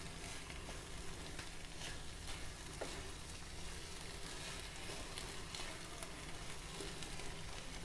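Roll filling mixture in sauce roasting in a pan over high gas flame, sizzling steadily and densely throughout with a constant close frying hiss and faint stirring scrapes, no voices.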